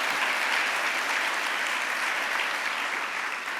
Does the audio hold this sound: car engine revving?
no